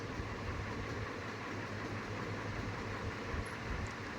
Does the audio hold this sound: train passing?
yes